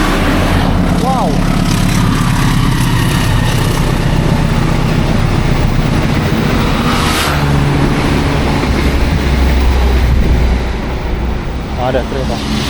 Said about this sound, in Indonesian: Oh, ada kereta.